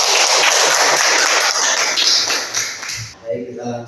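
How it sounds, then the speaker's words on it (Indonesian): A classroom group claps together in a dense, loud burst for about three seconds, then the clapping fades out and a voice begins speaking. "Tepuk tangan untuk kita."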